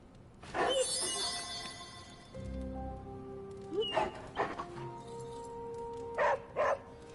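A dog's short barks and yips sound in Marvel's Midnight Suns, a few sharp bursts standing out over low game ambience and music-like tones, moderately close.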